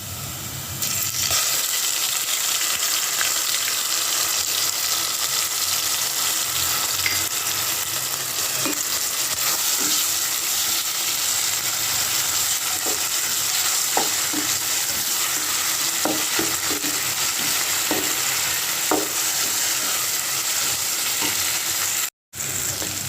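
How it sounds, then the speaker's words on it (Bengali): Ginger, garlic and onion paste fries and sizzles steadily in a pan for a spicy hotel-style shingara filling, with a constant bright hiss and occasional clinks of a spoon stirring against the metal. "বাটা মশলাগুলো হালকা ভাজা হয়ে গেছে"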